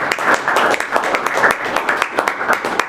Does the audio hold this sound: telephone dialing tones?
no